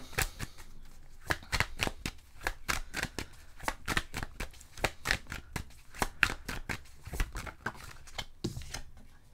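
Tarot cards are shuffled briskly and drawn in a dense run of crisp riffling snaps and slaps, close and steady throughout, with no voices.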